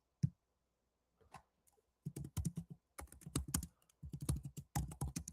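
Someone types a search query on a computer keyboard: a couple of isolated taps, then quick bursts of crisp, close key clicks in rapid runs.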